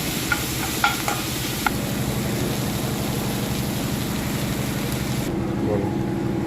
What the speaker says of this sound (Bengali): পেঁয়াজটা এবার ভাজা ভাজা হবে, এতে একটু নুন দেবো, দিলে ভাজাটা খুব ভালো হয়